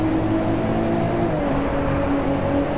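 The engine of a Nissan Skyline GT-R R34 V-Spec II in the racing game DriveClub, on a Norway track, drones steadily at a constant loud pitch with a slight rise in tone.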